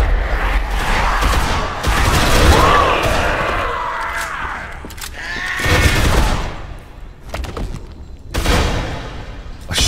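Rapid bursts of gunfire in Dead Island crackle loudly in repeated volleys, with brief pauses between them and no talking.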